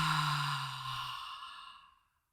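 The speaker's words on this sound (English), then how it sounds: "And a louder exhale." A single loud, breathy exhale during a guided breathing exercise, close to the microphone, starting strong and fading out over about two seconds.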